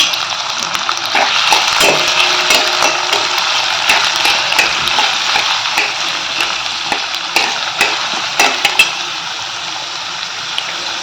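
Onion and green chili sizzling in hot oil in a pan while making fenugreek (methi) bhaji, a loud, continuous frying hiss with scattered pops and crackles throughout.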